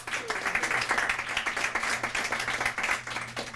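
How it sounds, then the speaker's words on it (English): Audience at a poetry night gives a full round of applause, with many hands clapping in a dense, continuous wash and a few sharper claps standing out close by. "One more round of applause for Dawn."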